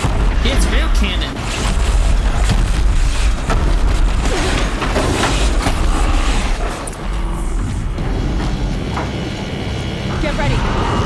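In Horizon Zero Dawn, deep cannon booms roll through a dense game soundscape, the loud blasts landing between stretches of speech.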